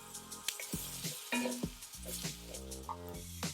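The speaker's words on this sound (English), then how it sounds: "In go the shallots" Shallots sizzle in a pan after NY strip steak was seared in butter, garlic and herbs; the frying crackle runs under louder melodic background music.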